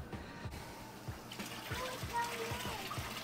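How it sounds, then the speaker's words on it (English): A DIY chiller pushes water through 1-inch tubing into an ice barrel, giving a soft continuous trickle and splash with low gurgling pulses, faint and close, under light background noise. "Water is coming out at a rapid pace."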